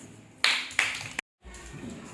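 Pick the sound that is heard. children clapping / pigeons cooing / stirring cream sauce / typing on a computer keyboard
children clapping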